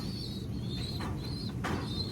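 Pigeons coo softly in repeated short calls over a steady low background hum, with a couple of brief rustling bursts between.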